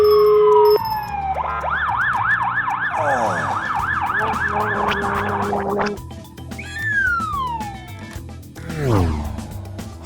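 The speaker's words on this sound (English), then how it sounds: "Call the ambulance." A toy ambulance plays its electronic siren, a loud close wailing then rapid yelping pattern that cuts off, followed by other toy vehicle beeps and sounds.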